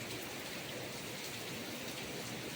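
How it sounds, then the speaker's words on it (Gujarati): Heavy night rain pours down in a dense, steady hiss, drumming on surfaces without letup. "એકદમ ધોકાર વરસાદ ચાલુ થઈ ગયો"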